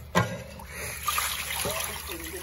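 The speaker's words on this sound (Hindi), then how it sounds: "अम्मी जो है ना यहाँ पे बर्तन धो रही हैं" Tap water runs and splashes as a mother washes dishes in a home kitchen, with clinks of utensils and voices speaking over the flow.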